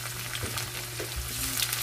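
Tomatoes going into a pan of frying onion and garlic, a steady close sizzle with soft stirring scrapes running unbroken throughout.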